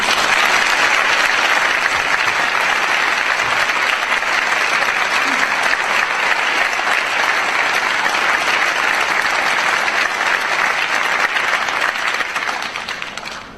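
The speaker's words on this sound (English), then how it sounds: "would you join us as well? Would you join me in giving that person a round of applause?" Sustained audience applause at a national honors music festival concert, a dense, steady wash of many clapping hands that holds evenly for over twelve seconds before beginning to thin at the end.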